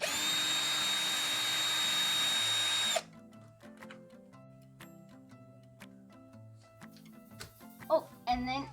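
Power drill runs loud and continuous for about three seconds, backing long screws out of an awning window winder, then stops, leaving quieter handling sounds and faint talk.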